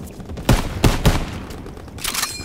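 Machine gun fire in Call of Duty: WWII sounds as a few sharp, loud bursts with gaps between them, with distant battle noise behind.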